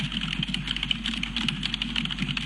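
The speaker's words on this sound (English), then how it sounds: "Let me probably type this in here." Rapid typing on a computer keyboard, a steady patter of close key clicks with no pauses and no talking.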